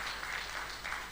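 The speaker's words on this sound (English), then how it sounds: "give a round of applause to our very deserving" A conference hall audience applauds a keynote speaker at a roundtable event, producing a steady wash of many hands clapping, moderately loud and sustained throughout with no pauses.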